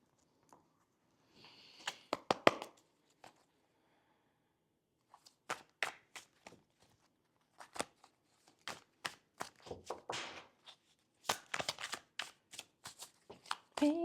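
A deck of tarot cards is shuffled close by in quiet, intermittent bursts of riffling and flicking, separated by short pauses, with occasional soft speech between them.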